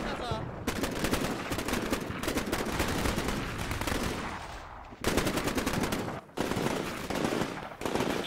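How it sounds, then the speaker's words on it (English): Machine guns rattle out suppressive fire in the wargame Combat Mission Shock Force 2, dense rapid bursts that run almost continuously with two short gaps, fairly close, with no talk. "Activate suppressive fire."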